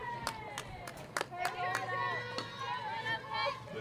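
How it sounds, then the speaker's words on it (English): A small crowd of about ten spectators at a Jefferson College softball game claps scattered and faint after a base hit, sharp individual claps over low background hum and a commentator's voice. "The crowd of now 10 people for Jefferson College applauding that base knock for Barlow."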